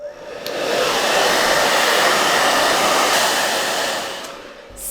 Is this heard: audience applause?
no